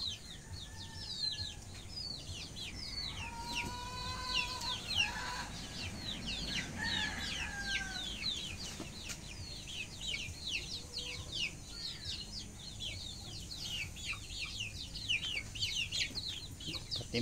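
Chickens clucking and chattering close by for the whole stretch, with wild birds chirping busily in the background and a steady outdoor hum.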